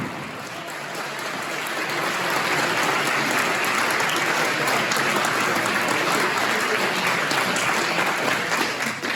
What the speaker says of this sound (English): she was welcomed up on stage by the cheering crowds